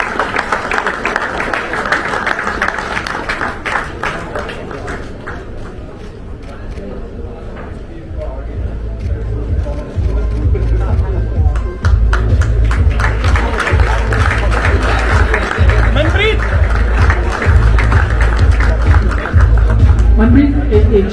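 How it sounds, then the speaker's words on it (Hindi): Loud, sustained applause from a large crowd honouring hockey captain Manpreet Singh at a ceremony for Tokyo Olympic champions, a steady dense clapping that swells partway through with a deep rumble underneath. "जोर की तालियां हो जाए हमारे कप्तान साहब के लिए"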